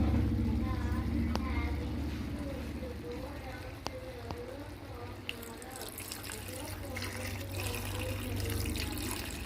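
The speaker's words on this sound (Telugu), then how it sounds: "ఇప్పుడు వాటర్ వేసుకుందాం." Water pours steadily into a pan with a continuous splashing gurgle, mid-close, alongside a low hum and a few soft clinks.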